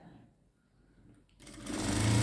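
A sewing machine stitches a 42-inch straight-cut blouse, starting after a quiet stretch and running loud and steady, close by, for the final second.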